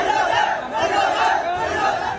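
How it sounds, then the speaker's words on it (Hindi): An angry street protest by Hindu groups in Guna demanding justice produces a steady, loud wash of massed shouting voices, swelling slightly in waves with no single voice standing out. "भीड़ उग्र हो रही है।"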